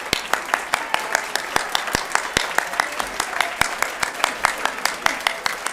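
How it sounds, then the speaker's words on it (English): A church congregation at a Presbyterian women's celebration claps in a sparse, distinct pattern of individual hand claps, fairly close and moderately loud, with scattered voices mixed in. "So please stand and applaud."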